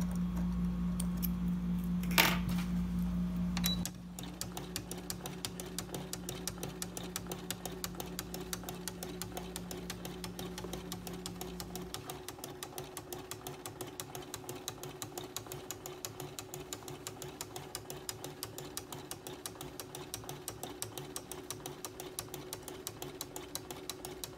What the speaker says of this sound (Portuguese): Agora eu vou iniciar a costura devagar.